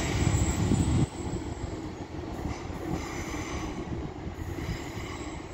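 Class 156 diesel unit 156412 rolling through Stockport station on the West Coast Main Line, a loud rumble with a heavy low-frequency burst at the start, then steady rhythmic wheel clatter and rail noise close by.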